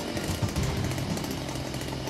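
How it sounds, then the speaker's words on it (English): A gasoline-powered drill driving a Sherman & Reilly CP-50 compact cable puller runs at a loud, steady buzzing roar from start to end, close up, with no talking. "power for the CP-50 is supplied by a separate gasoline power drill"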